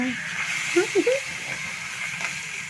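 Fish fry in a pan as they are flipped, giving a steady close hiss of hot oil with a few short voiced murmurs rising briefly above it.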